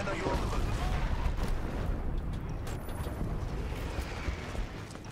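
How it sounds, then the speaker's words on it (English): In the Dirty Bomb multiplayer shooter, a player is blown up by an explosion, a dense roaring blast that fills the whole clip with rumbling, crackling noise, with a voice faintly under the din. "Oh my god, I got blown up."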